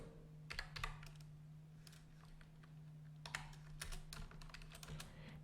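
Someone types HTML, CSS and JavaScript code on a computer keyboard in two quick bursts of crisp key clicks, close by, with a steady low electrical hum underneath and no talking.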